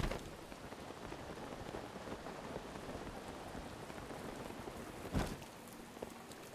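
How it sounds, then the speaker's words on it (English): Steady rain patters continuously in The Legend of Zelda: Breath of the Wild video game, a dense even hiss with a brief louder rumble near the end, no talking. "It's raining again, isn't it, everybody?"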